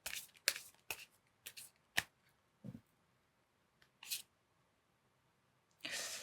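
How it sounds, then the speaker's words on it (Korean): Oracle cards being shuffled for a tarot reading, a series of short crisp riffling bursts with pauses between them, close and alone with no voices, ending in a longer shuffle. "오라클 카드에서 또 어떤 얘기를 하는지 카드 하나 뽑아 드리고 마무리하도록 하겠습니다"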